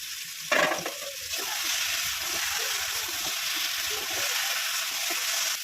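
Spice paste with tomato and fried eggplant sizzles and crackles in a pan, a steady loud frying hiss after a brief stirring clatter near the start.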